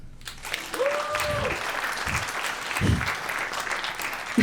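A comedy club audience claps in a loose, thin burst of applause, with a few voices and thumps mixed in underneath.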